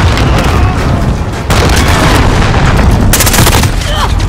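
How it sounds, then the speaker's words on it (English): A cruise missile strike in Call of Duty Modern Warfare, heard as a loud, continuous rumbling roar of explosions with sharper booms layered in, under a voice speaking. "Allied cruise"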